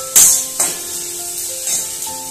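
Onion frying in a pan for a Bengali fish dish, a soft sizzle with a few sharp scraping or stirring hits spaced through the short stretch, close and fairly loud, no voices.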